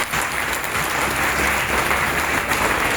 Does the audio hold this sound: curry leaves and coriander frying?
no